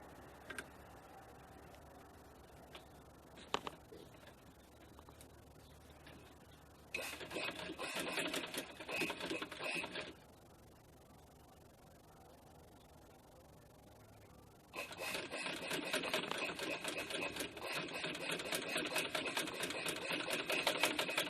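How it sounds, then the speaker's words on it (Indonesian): A sewing machine stitching a shirt collar, a quiet, rapid mechanical ticking that runs in two separate stretches with near-silent pauses between and around them. "Oke, kita lanjut, kita jahit."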